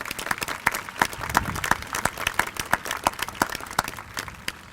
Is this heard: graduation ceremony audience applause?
yes